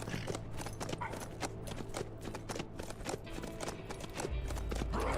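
Horse hooves clip-clop in a steady, quick rhythm in the video game HumanitZ, fairly close and faint, with no talking.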